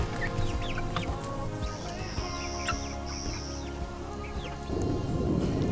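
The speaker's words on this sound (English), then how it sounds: "This guy's definitely a rooster." A rooster clucks and makes short calls close by on a homestead, with other birds chirping around it and a longer high call in the middle, over a steady low hum of background noise.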